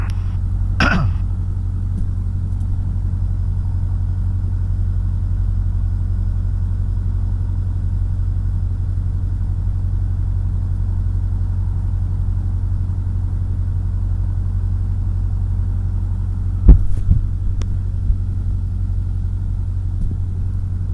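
A light aircraft engine runs steadily with a low, even rumble while taxiing toward a holding point at an airfield, continuous and close throughout, with a couple of brief clicks near the start and later on.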